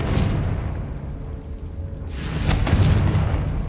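A Bombarda spell explodes in Hogwarts Legacy with a deep booming blast and rumble that rolls on, followed by a second burst of crackling impact debris.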